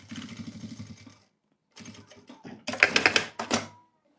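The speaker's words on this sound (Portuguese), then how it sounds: "Já vou costurar o outro lado também, abrindo o viés." A sewing machine stitches bias binding onto a half-moon organizer bag, sounding in close, rapid whirring bursts separated by pauses, the last bursts louder and sharper.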